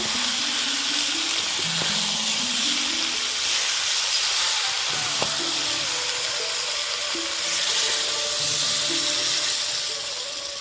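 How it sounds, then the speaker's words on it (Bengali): Water poured over meat cooking in a pot sends up a loud, sustained steam hiss with bubbling, plus a few faint tonal whines, continuous and with no talking. "মাংসটা জল দিয়ে দিলাম এবারে ফুটে গেলে হয়ে যাবে নামিয়ে নেব"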